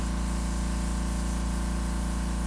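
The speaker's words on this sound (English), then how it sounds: "So we just throw a little water in, spray that bad boy out a little." Water sprayed out of a paint sprayer to clean out leftover yellow paint, a loud, continuous hissing spray over a steady low hum, with no talk.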